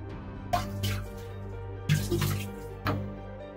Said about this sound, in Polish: Nalejemy sobie 1 cm wody RO